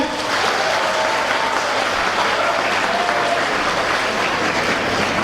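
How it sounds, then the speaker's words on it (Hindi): Loud, continuous clapping from an audience at a stage performance, a thick steady roar of hands that stays level throughout without any voice on top. "आप उन हाथों को एक बार तालियों में तब्दील कर दीजिएगा।"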